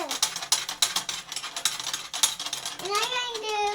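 Tension rods on a 1970 vintage Ludwig Green Sparkle drum are turned, giving rapid close ratcheting clicks in quick bursts, followed by a voice speaking at the end.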